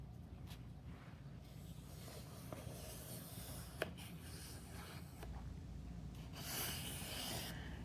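A pencil and a black china marker make soft scratching and rubbing strokes on paper, with brief quiet marks and pauses, close and faint, with no talk.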